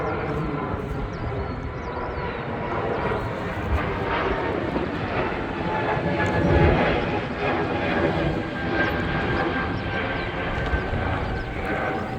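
An airplane drones overhead, a broad steady engine roar that swells slightly and stays loud throughout, with faint voices underneath.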